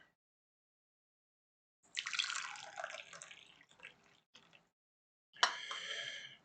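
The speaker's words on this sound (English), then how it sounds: "Just pour some more tea." Tea pours into a cup in short splashing bursts separated by pauses, quiet and close, with no talking.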